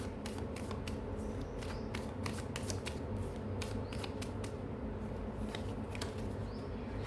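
Tarot cards are shuffled by hand, producing a quiet, rapid series of crisp riffling flicks and slaps in an irregular rhythm, close by and alone without talking.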